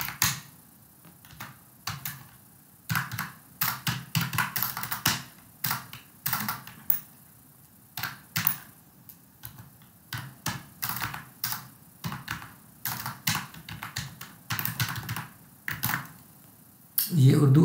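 Clicking of a computer keyboard while typing Urdu text: uneven bursts of crisp key taps, close and fairly loud, with short pauses between runs of typing.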